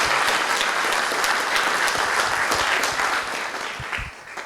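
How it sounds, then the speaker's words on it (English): Audience applause at an interfaith langar gathering in Brisbane, a dense, steady burst of many hands clapping that carries on for several seconds before easing slightly at the end. "Another round of applause."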